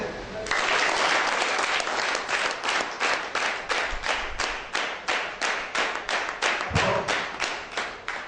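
A live audience at a pain and palliative care society fund donation event claps loudly and steadily for about eight seconds, a dense, sustained burst of hand-clapping with rhythmic swells throughout.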